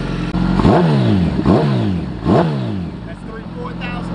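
A Campagna T-Rex three-wheeler fitted with an aftermarket motorcycle exhaust revs hard three times in quick succession, each rising blast climbing high and falling away, loud and close, with a short spoken word before the revs.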